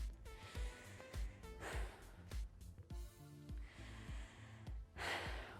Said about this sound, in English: And this is what a chest breath looks like.